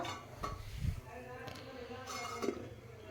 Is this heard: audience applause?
no